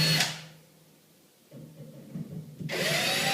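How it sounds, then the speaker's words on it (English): A 6mm drill bores a hole into a wall during a shelf installation. Loud, harsh whirring bursts open and close the stretch, with quieter handling noise between them. "taking your 6mm drill,"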